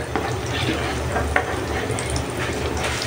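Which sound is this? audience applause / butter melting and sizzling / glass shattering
butter melting and sizzling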